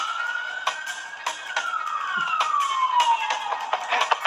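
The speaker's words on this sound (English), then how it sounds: "Why are there sirens going off in this scene?" A police siren wails in a movie scene, sliding slowly downward in pitch, loud and continuous, with sharp repeated thumps and action noise cutting through it.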